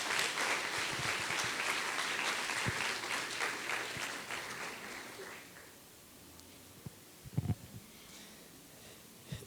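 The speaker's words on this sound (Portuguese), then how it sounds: "Aplauda o Senhor, querido." A church congregation at a Sunday service applauds, a fairly dense round of clapping that fills the room and then thins out and fades after several seconds, leaving scattered claps and rustling.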